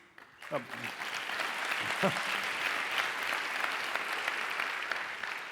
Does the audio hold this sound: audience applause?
yes